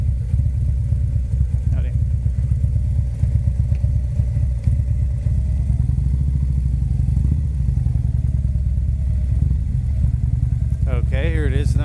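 Bikers' motorcycles pass along a road at the Cotton Fair in Gay, Georgia, with a constant close engine rumble and clatter while someone briefly speaks a greeting.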